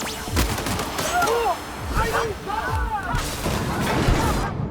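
Gunfire rattles through a battle in The Outer Worlds, with repeated sharp shots and booming impacts amid crashing combat effects and a brief voiced shout over the din.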